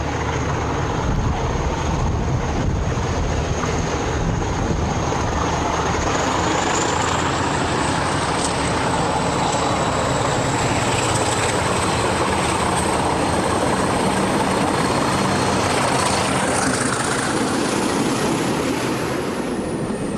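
A Portuguese Railways diesel locomotive engine rumbles continuously with a whirring roar from its direct-drive radiator fan and a thin high whine rising over it.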